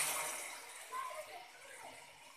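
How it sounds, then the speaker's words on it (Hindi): Hot water pours into a pan of soybean, potato and pea curry gravy, a brief close rushing splash that fades and thins out over a couple of seconds. "मैं इसमें डाल रही हूँ गर्म पानी आपके ग्रेवी के लिए"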